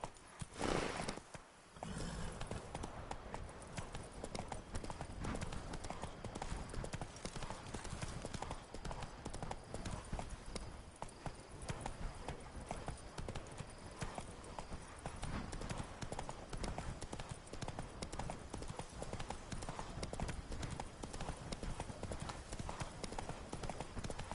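Steady clip-clop of a horse's hooves while riding in The Witcher 3: Wild Hunt, a continuous rhythmic trotting over game ambience, fairly close and loud throughout.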